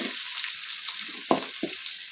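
Curry leaves and onion sizzle steadily in ghee in a pan, a continuous close crackle with a few brief stirring knocks and scrapes, and no voices.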